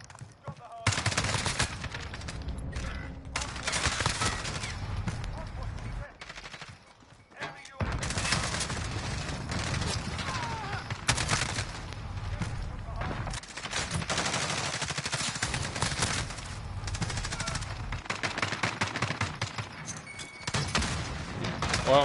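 AK rifle fire in a video game comes as loud, sustained bursts of automatic gunfire with a short pause partway through, and faint voices in the background.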